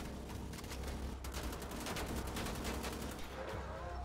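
Turret gunfire in the video game Wolfenstein: The Old Blood rattles in a sustained, rapid automatic burst, loud and continuous with a heavy low rumble underneath.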